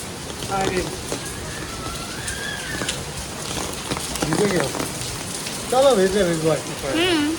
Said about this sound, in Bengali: এই দেখো কি বৃষ্টি